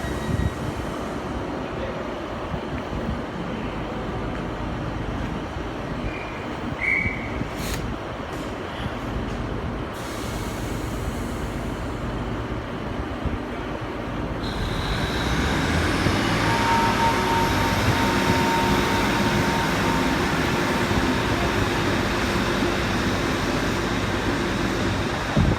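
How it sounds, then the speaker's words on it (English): A Barnstaple-bound train departs Exeter St David's station, its engine and wheel rumble swelling from a low murmur to a louder, sustained roar partway through, with faint squeals over steady platform ambience. "We'll see the Barnstable train go out."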